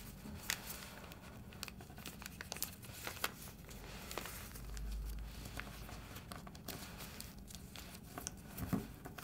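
Paper is handled and creased while folding a Star Wars Luke origami figure, giving soft, faint crinkles and light taps in an irregular rhythm, close by and quiet, with no talking.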